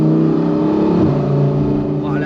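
A Lamborghini Performante Spyder's V10 revs loud and close, a rich layered engine tone rising and swelling with throttle before easing slightly, with no voices over it.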